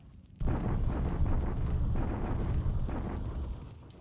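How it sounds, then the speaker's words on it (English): Bombardment explosions at Tungu in the War in the Pacific strategy game, a sudden loud rumbling blast that rolls on for several seconds before fading. "Bombardment at Tungu."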